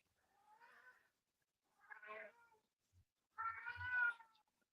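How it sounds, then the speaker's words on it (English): An indoor cat meows three times, drawn-out plaintive calls separated by short pauses, the last the loudest, in a quiet room with no talk. "I hear that kitty is trying to break out."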